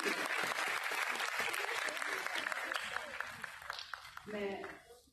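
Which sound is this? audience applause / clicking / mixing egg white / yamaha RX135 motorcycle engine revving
audience applause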